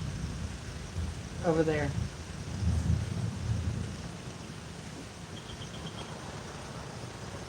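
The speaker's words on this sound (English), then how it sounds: "Sounds thundering somewhere." Distant thunder rumbles low during a mountain storm in Rincon, Puerto Rico, swelling in two soft rolls over steady rain and background noise, with a brief voice speaking nearby.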